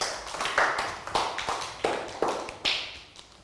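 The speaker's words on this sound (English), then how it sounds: "So round of applause for Pangpon." A class of Year 3 pupils claps in a rhythmic pattern during a maths lesson, with sharp, evenly spaced bursts of hand claps repeating about every half second.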